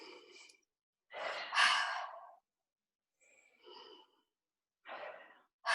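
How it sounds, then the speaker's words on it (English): A slow, deep guided breath in during a live therapy session, followed by a long audible exhale and further soft breaths, close and fairly quiet with no talking. "Breathe in."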